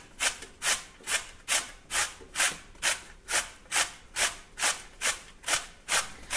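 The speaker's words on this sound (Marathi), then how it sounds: "इथे किसणीवर आता आपल्याला हे रताळ किसून घ्यायचे आहे" Peeled sweet potato is grated on a hand grater: about fifteen rhythmic rasping strokes, close and even-paced, with no talk.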